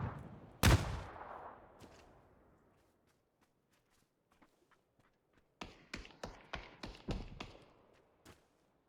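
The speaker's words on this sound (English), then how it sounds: "They trade a couple of shots, with Matthias connecting with a headshot." PUBG gunfire during a tournament match: one sharp loud shot early, a quiet stretch with faint ticks, then a rapid run of six or seven distant shots in an uneven burst.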